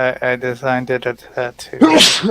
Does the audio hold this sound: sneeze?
yes